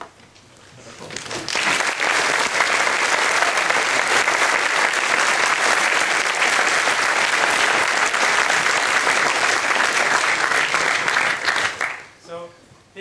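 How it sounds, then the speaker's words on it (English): Sustained, dense applause from a lecture audience welcoming physicist Peter Higgs to the Oskar Klein Memorial Lecture swells quickly, holds steady and loud for about ten seconds, then fades out. "let's give Peter a applause"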